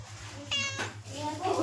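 A kitten gives one short, rising meow near the middle, close to the listener, with a person talking around it.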